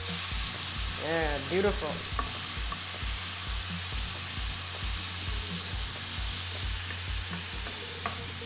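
Steak medallions and chili fry in a pan with a steady crackling sizzle, under a low rhythmic hum, while a voice briefly speaks near the start.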